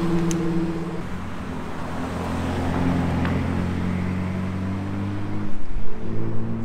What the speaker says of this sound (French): il y a des voitures qui commencent à arriver